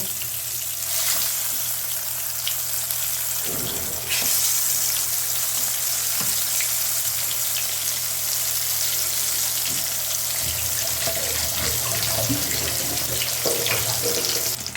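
Eggplant fritters hiss and sizzle in hot oil in a pan, a loud continuous crackling frying sound with a few brief clatters as pieces go in.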